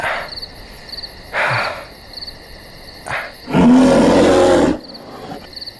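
A bear lets out several short growls, then one long, loud, rough roar close by, over a steady background hiss with no speech.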